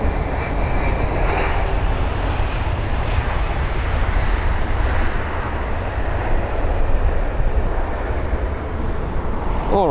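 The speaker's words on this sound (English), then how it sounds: "the aircraft that we just seen arrive was the Finnair A320-200 with the retrofitted sharklets on board" A Finnair A320-200 airliner with retrofitted sharklets arriving at London Heathrow produces a loud, continuous jet roar, broad and sustained throughout with no pauses.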